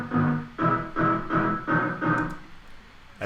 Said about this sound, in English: So this is the original patch.